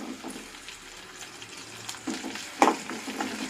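Onions, curry leaves and green chillies frying in a pan for bitter gourd curry, a faint sizzle punctuated by a few louder stirring scrapes and clinks.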